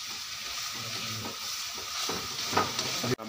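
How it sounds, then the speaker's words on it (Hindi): Masala spices frying in a pan while being stirred, a close steady sizzle broken by scraping stirs, with a sharp clatter at the end. "तो गाइस बढ़िया से सारे मसाले अपने पका लेंगे हम बढ़िया तरीके से।"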